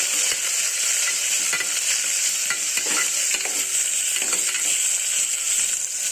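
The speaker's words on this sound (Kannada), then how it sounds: "ಈಗ ಇದನ್ನ ಒಂದು ಹಸಿ ಸ್ಮೆಲ್ ಹೋಗೋವರೆಗೂ ಫ್ರೈ ಮಾಡೋಣ" Onions and green chillies frying in a pan for a simple moong dal, a steady close sizzle with scattered scraping stir clicks throughout, no voices.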